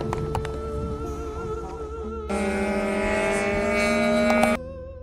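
A model airplane powered by a Cox TD09 glow engine drones with a high, steady whine at a fly-in, rising louder and brighter for a couple of seconds before cutting back, with faint background noise around it.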